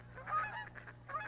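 Geese honking at a marsh wildlife refuge, Blackwater National Wildlife Refuge in Maryland: a few faint, distant honks in quick succession over a low, steady background hum.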